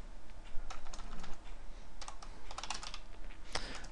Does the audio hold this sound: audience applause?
no